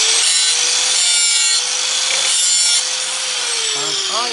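A sanding disc worked along an axe blade, giving a steady, loud abrasive hiss and grind that runs continuously, with a few brief shifts in pitch as the pressure changes and no speech.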